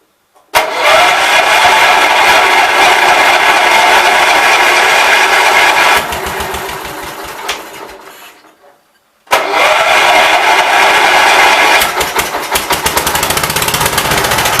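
A 1988 Gravely 12G tractor engine fires up sharply and runs at a loud, steady roar, drops off and cuts out briefly, then catches again and keeps running strongly, close by with no talk.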